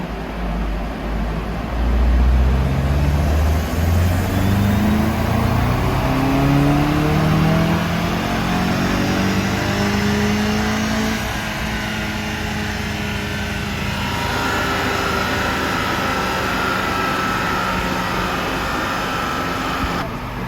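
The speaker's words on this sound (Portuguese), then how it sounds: "observe o valor de som na hora que eu estiver acelerando em máxima rotação, em máxima carga" A Volkswagen Golf GTI Mk7 engine roars loudly at maximum revs under full load, holding a strained, sustained drone with rising and falling tones for the whole stretch.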